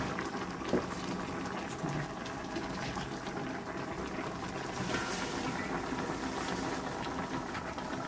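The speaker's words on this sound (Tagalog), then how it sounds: "habang kumukulo, takpan lang po natin saglit" Fish stew with sweet potato leaves and chili, covered in a pot, boils with a continuous close bubbling and hissing wash of sound that stays even throughout, no voices.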